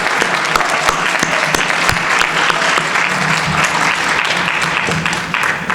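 Audience at a high school graduation ceremony applauding the first graduating class of a Somali academy, a sustained, loud wash of many hands clapping that holds evenly throughout, with no one speaking over it.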